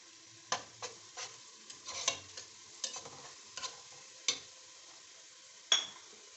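Cinnamon, cloves and cumin hit hot oil with browned onions in a pan, giving soft sizzling under scattered sharp stirring clicks and scrapes, fairly quiet and close.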